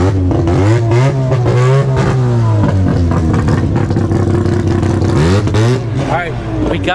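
A two-rotor, naturally aspirated Mazda RX-7 revs hard at a drag race, its buzzing engine note rising and falling in loud, close, ragged sweeps, with voices mixed in.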